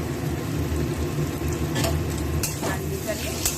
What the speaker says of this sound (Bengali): এটাকে পোস্ত বাটাটা দিয়ে ভাজা ভালোই হয়ে গেছে